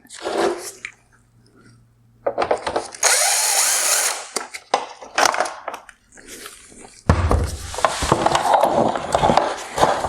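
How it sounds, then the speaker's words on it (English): A power tool with a 7mm socket loosens the headlight adjusting bolt on a 2019-2021 Toyota Camry LED headlight, running in several loud, close bursts of whirring and ratcheting, with quiet pauses between them. "We need to loosen this adjusting bolt. This adjusting bolt is a 7mm socket."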